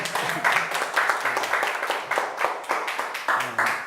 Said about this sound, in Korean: 여러 번 왔는데 박수 소리가 너무 작습니다.